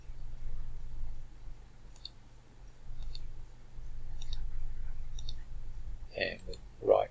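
Mouse clicks in CAD software while modeling a folding shovel handle, a few faint, sparse clicks spaced about a second apart over a low steady hum, ending with a couple of louder clicks.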